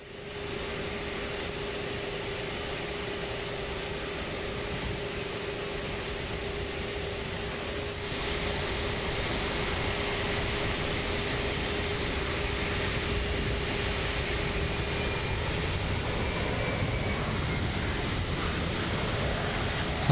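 Jet engines of an Inibuilds A310 airliner taxiing at low speed in Microsoft Flight Simulator 2024, a steady droning whine with a constant hum that steps up slightly in loudness midway, with no talk.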